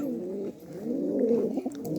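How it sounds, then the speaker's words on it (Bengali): Low, rolling pigeon coos repeat steadily and close by from a caged pigeon, soft and throaty, with faint chirps from other birds in the background. "এই যে এখন খাঁচাটাতে এখন অন্য সে কবুতর হাজির, আর এই যে এটা নতুন কবুতর"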